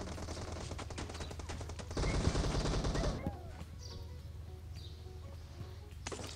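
Gunfire in the mobile battle royale game PUBG Mobile rattles in rapid automatic bursts for about three seconds, then fades to quieter ambience with faint game bird chirps.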